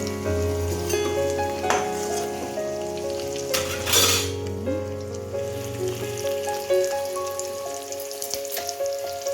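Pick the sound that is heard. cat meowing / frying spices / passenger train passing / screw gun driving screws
frying spices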